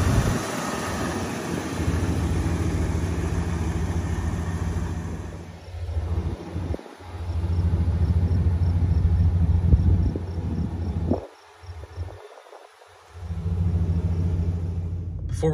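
A 1997 Ford F-250 XLT 4x4's 7.5-liter 460 cubic inch V8 idles smoothly with a steady low rumble, close by, briefly interrupted by wind buffeting on the microphone and a couple of short dropouts.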